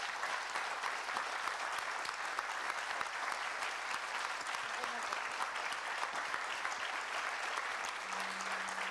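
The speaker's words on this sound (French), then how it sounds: "je crois qu'on peut applaudir Adja." Dense, steady applause fills a conference hall from a seated audience, a continuous even patter of many hands that carries on without pause.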